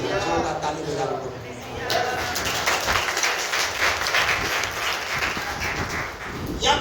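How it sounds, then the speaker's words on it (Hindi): A Sunday congregation at a fellowship church claps loudly, a dense, vigorous burst of many hands with shouting and talk mixed over it throughout. "जोरदार ताली बजा लो।"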